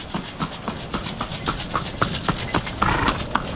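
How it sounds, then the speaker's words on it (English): A horse clip-clops past on a street on Gili T, Indonesia, its hoofbeats clear, close and evenly spaced over steady outdoor background noise. "Oh, there goes the horse."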